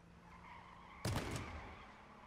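A car in the H1Z1 King of the Kill video game skids with a sudden loud tire screech about a second in, fading into engine rumble over a steady background hum.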